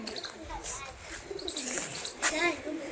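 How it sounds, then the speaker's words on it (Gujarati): Pigeons tied up in a home setting coo softly in repeated throaty calls at a middle distance, while a person talks over them throughout. "કબૂતરા છે જોઈ રહ્યા છો તમે"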